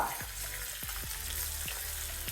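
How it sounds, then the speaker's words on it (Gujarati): A tempering with asafoetida sizzles as it is poured over freshly steamed rava and gram flour dhokla. The crackling hiss is steady and close, broken by a few dull knocks and taps. "આ વઘારને આપણે લઈ લેશું ઢોકળાની ઉપર"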